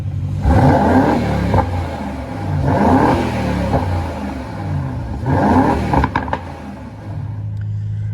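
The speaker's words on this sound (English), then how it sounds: "let's go outside and have a listen to this exhaust" A 2024 Aston Martin DB12's exhaust revs repeatedly, three rising roars over a rumbling idle, each blip swelling loud then falling back, followed by a few crackles.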